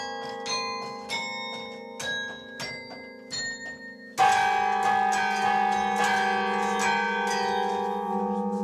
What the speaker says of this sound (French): pour Danny Boone, c'était évident que le carillon du Nord, c'est le carillon de Douai.